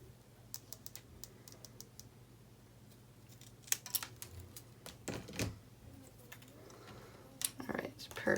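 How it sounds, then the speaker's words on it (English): Scissors snip paper for a photo folio album craft with a series of quiet, crisp cuts at an irregular pace, close up, with some talking nearby. "snip it up"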